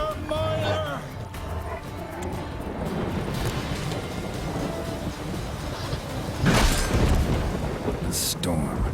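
A thunderstorm in The Witcher 3 brings deep rumbling thunder and a steady wash of rain, swelling into a louder crack near the end, with a voice talking over it at times.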